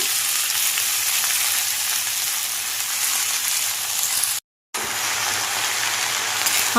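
Fresh spinach leaves hitting onions fried golden with turmeric in a pan, giving a loud, steady sizzle throughout with a brief silent gap near the end.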